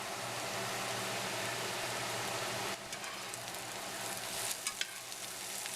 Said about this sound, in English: Give the potatoes a stir, and again just evenly spread out.